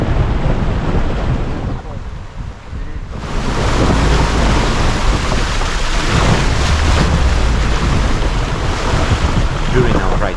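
River water rushes and splashes loudly around a vehicle crossing a river in mountainous Georgia, mixed with heavy wind buffeting the microphone, briefly easing before surging again and continuing strongly.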